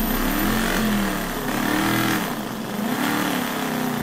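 Loud gas-powered engine running as part of a gaming setup, a steady droning roar with slight pitch wavering, close and continuous without speech.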